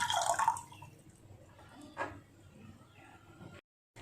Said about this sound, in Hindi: तो सबसे पहले एक पैन में पानी डाल करके इसको बॉईल कर लेंगे